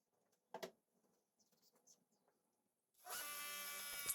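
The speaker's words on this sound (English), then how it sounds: "Just gonna repeat the same procedure for the other shelves, tacking it in and driving it home with screws." A power drill drives screws into recycled lumber seed-starting shelves. Quiet handling knocks come first, then a loud, steady whirring drill burst close up toward the end, and nobody speaks.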